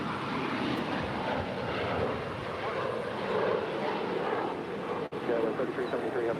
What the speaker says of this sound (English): Here we have Alaska SkyWest Flight 3373 departing to Santa Rosa.